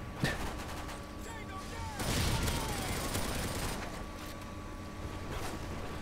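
MP9 submachine gun fire in Call of Duty MW3 team deathmatch, with rapid bursts and distant shots amid game noise, swelling louder around the middle, while someone comments over it.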